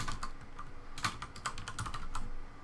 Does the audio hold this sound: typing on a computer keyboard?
yes